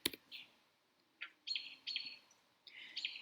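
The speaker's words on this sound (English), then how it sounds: "The noise you're hearing is a robin in the background." A robin sings at a distance in short, repeated bright phrases separated by pauses, faint and alone over a quiet background.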